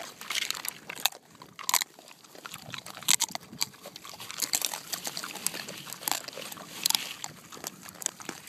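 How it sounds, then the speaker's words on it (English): Close, crunchy chewing and cracking of fresh pecans by Kunekune pigs, irregular bursts of crunching with snuffling and shuffling between bites. "that is the sound of happy pigs chomping down on some fresh pecans."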